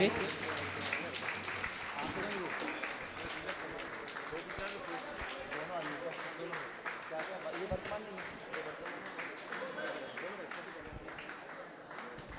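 A crowd gathered at a religious event in honor of a Jain monk claps loudly and steadily in continuous applause, with voices audible beneath the clapping.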